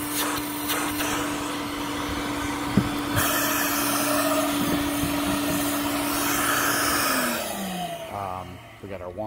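An Advance restroom cleaning and sanitizing machine runs with strong suction, giving a steady, loud whirring drone that holds through the clip, with a tone that drops near the end and some handling noise.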